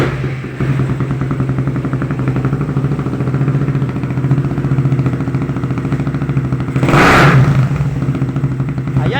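A Suzuki Raider 150 motorcycle fitted with an Apido pipe exhaust idles with a steady, throaty burble, then revs up hard near the end in a loud, close rising roar.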